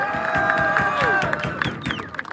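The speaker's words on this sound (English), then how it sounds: "All right, give her a round of applause, everybody." Audience applause and cheering from a crowd at a Yemen protest gathering, a steady dense wash of clapping sustained for a couple of seconds before thinning out, with voices calling within it.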